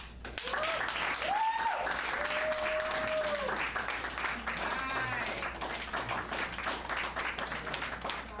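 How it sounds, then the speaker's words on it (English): An audience applauds steadily for about eight seconds at an event after a woman shares her personal story, with dense sustained clapping, a few voices calling out, and some tonal whoops rising over the crowd. "let's give her another round of applause for sharing her story"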